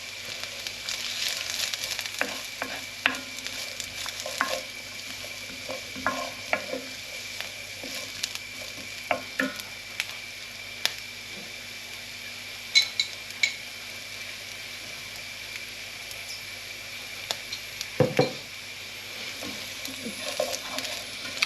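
Pork and chorizo frying in a pan give off a soft, steady sizzle with scattered clicks and scrapes of stirring, fairly quiet and close, plus one brief lower thump near the end.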